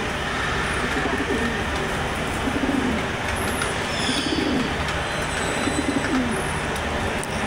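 Pigeons coo in repeated low, rolling calls against a steady background noise, sounding close by, with a few faint higher chirps mixed in.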